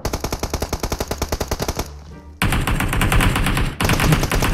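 Automatic gunfire in a shooting video game: a rapid rhythmic burst of shots, a short pause, then a dense sustained volley of loud close firing with a brief break near the end.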